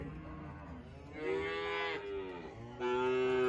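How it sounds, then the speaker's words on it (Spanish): Gyr cattle on a ranch, cows with newborn calves, give several long, loud, drawn-out moos in succession, close by, with no talk over them. "ahí están unas vacas paridas"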